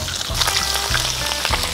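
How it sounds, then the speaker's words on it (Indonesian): An egg fries in hot cooking oil in a pan, a loud continuous close-up sizzle and crackle with occasional spits and pops throughout, with no talk over it. "Minyak gorengnya nih, geng. Tak buat goreng telur dulu ya."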